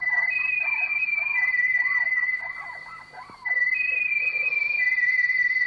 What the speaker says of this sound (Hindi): ये मेरे दोस्त की बजाई हुई सीटी है